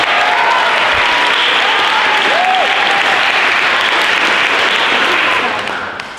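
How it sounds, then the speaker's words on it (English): Audience applause at a science lecture competition: dense, steady clapping from a full room that holds for about six seconds before easing off at the end. "I think we should give a round of applause to Pearl Malik, who was last year's winner."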